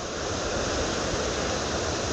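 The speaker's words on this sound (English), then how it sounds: "I hope you can hear them waves." Ocean waves breaking on a breezy day make a steady, continuous wash of surf with no clear breaks, heard close and fairly loud with no talking.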